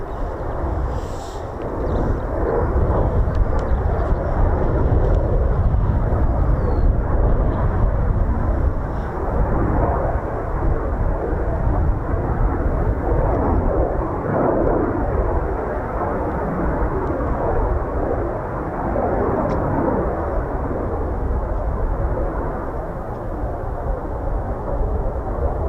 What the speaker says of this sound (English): we've got Typhoon 325 inbound